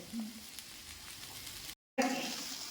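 Chili and vegetables stir-frying in a pan, a steady close hiss of sizzling oil that cuts out briefly and then resumes.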